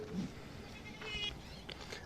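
A goat near kidding bleats faintly a couple of times over a murmur of background noise and distant voices.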